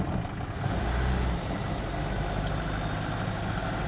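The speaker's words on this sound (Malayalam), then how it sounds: "ഒരു 4 ലിറ്റർ എൻജിൻ, അത്യാവശ്യം നോയ്സ് ഇതിനകത്തേക്ക് കേൾക്കുന്നുണ്ട്" Cabin of a Mercedes-Benz W115 with a 4-litre engine running, a steady low rumbling drone heard from inside, constant and fairly loud, with no talk.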